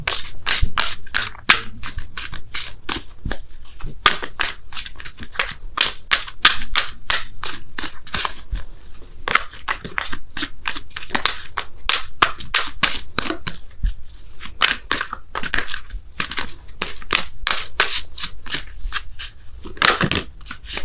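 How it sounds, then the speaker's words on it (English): Oracle cards shuffled in a continuous, busy stream of crisp riffling and rubbing clicks, close and moderately loud, without any talking. "I'm going to pull you guys a Wisdom of the Oracle card as well"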